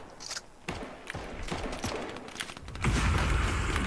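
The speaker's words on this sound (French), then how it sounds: "Le frérot il ne bouge pas, je tire sur lui là." Gunfire in the Fortnite video game crackles as a quick run of sharp shots at moderate distance, then gives way to a louder, denser burst of noise near the end.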